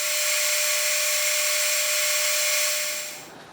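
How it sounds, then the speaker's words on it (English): A power drill whines loudly and steadily at high pitch while drilling a hole into backed-up material, then winds down and fades near the end. "now I'm going to drill the second hole, which will be the other end of the slot"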